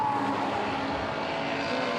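Touring race cars, such as a Peugeot 308 and BMW 325, roar past on a circuit in a continuous loud engine wash with a high whining tone, no voices over it.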